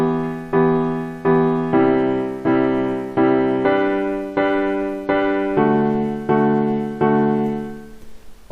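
Lead melody on an electric piano plugin in FL Studio, a steady run of about a dozen evenly spaced sustained notes with soft decays, loud and clean with nothing else playing.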